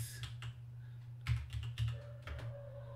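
Keys clacking on a computer keyboard while writing a GW-BASIC program, a run of light, irregular taps in small clusters over a constant low electrical hum, close and quiet.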